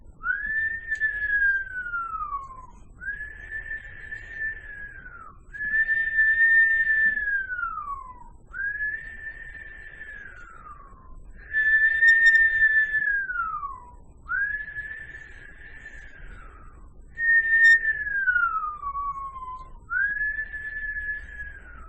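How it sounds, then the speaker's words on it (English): Whistle breath exercise: a person exhales through pursed lips in eight sustained whistled tones, each a steady pitch that slides downward at the end, separated by short pauses for inhaling, close and clear, with no talking. "So you want to just do the whistle breath and it's going to be inhale and exhale."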